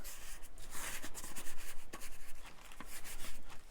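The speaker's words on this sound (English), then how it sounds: "Scrub at it" Aging treatment is scrubbed into Amazon packaging cardboard, making close, soft rhythmic rubbing and brushing strokes that repeat irregularly, fairly quiet with no voices.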